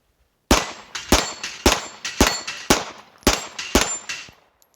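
Glock 34 9mm pistol fired at steel plates: eight sharp shots, each followed at once by a ringing metallic clang, in a fast, slightly uneven cadence over about four seconds, close and loud, then silence.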